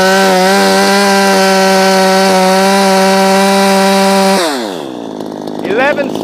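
A Poulan Pro 335 chainsaw screams at high RPM, a loud, steady, buzzy whine held close up for several seconds before the throttle drops and the engine winds down abruptly.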